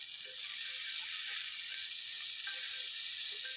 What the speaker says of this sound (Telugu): ఇప్పుడు 5 మినిట్స్ నుంచి మనము ఆయిల్లో బీన్స్ ఇట్లా ఫ్రై చేసుకుంటున్నాం కదా.